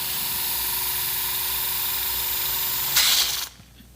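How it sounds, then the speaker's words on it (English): A powered OATS reamer drills into bone at the recipient site during osteochondral lesion surgery, giving a steady, fairly loud mechanical whir with hissy fluid spray. It runs alone and evenly, briefly flares louder, then cuts off abruptly near the end. "As we're getting ready to ream, we want to ensure to be using fluid to minimize the bone death and heat damage to the recipient site."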